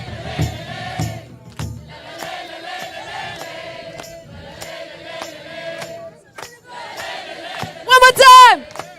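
A large crowd at a live Save Soil rally in Budapest shouts and chants in loud rhythmic bursts separated by short pauses. A sharp rising and falling whistle-like cry cuts through near the end.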